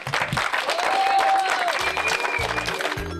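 Applause from a crowd at the opening ceremony of a children's summer health camp, steady clapping that fills the clip, with a voice and music-like tones sounding over it.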